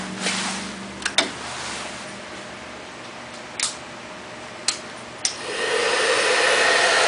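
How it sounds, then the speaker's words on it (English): A steady broadband whoosh of a hair dryer switches on and keeps running, with a few sharp clicks and knocks scattered before it starts. "Try and turn the hair dryer."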